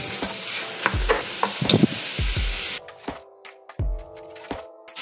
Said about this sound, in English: with the ground beef, I like to add it bit by bit, and I try to break it up as much as I can